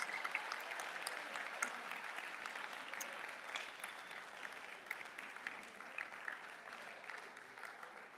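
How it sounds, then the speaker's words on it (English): Applause at a school board meeting for newly certified public school counselors, a continuous, even clapping heard faint and distant for the whole stretch, no voices over it. "Please give them a big round of applause."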